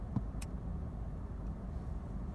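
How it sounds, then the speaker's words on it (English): Steady low road rumble and engine hum of a car being driven, heard from inside the cabin, continuous and fairly quiet with a brief faint click near the start. "So I'm gonna do this video while I drive."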